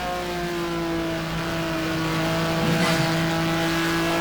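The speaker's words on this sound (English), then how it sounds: "driving a Maserati MC12" A Maserati MC12 GT race car engine in a racing video game at Fuji, a steady sustained engine drone with a steady pitch that swells slightly near the end, loud and continuous.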